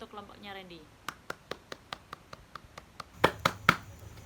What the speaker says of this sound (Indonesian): Kasih tepuk tangan untuk kelompoknya Randy.